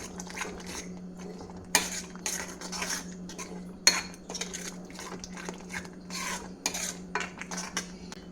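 A spoon scrapes and clinks around a pan as spices with a little black pepper powder are mixed for butter chicken, with repeated light metallic taps and soft stirring, close and fairly quiet, no talk.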